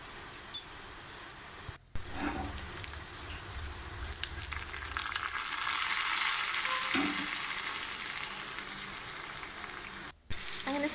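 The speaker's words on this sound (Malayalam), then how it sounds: "അതിലേക്ക് കടുകും കറിവേപ്പിലയും കുറച്ച് ഉലുവയും കൂടി പൊട്ടിച്ച് ഒഴിക്കണുള്ളൂ." Mustard seeds, curry leaves and fenugreek sizzle in hot oil for tempering sambar, a close, steady frying hiss that swells in the middle, with a couple of brief clinks near the start and end.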